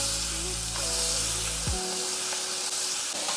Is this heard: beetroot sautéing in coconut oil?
yes